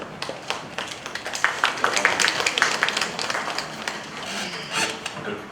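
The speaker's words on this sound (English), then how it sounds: "The clapping is not necessarily need to be done after every speaker." An audience at a panel discussion closing a climate lecture series at CMRU claps after a speaker, a steady patter of many hands that swells and then tapers off, with faint voices mixed in.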